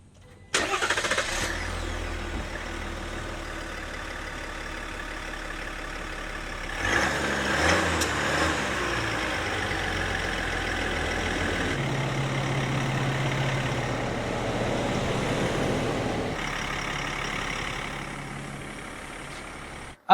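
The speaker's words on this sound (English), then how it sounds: "you don't have a whole lot of diesel clack out of this. You hear a little bit." Diesel engine of a 2024 GMC Sierra AT4 pickup cranks, starts and settles into a steady idle with a faint clatter, heard from close by and alone, with a brief rise in engine revs partway through.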